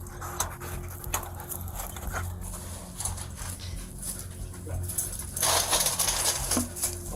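A police K-9 dog pants in rapid, steady breaths close by, with outdoor rustling and a louder burst of noise near the end; no one speaks.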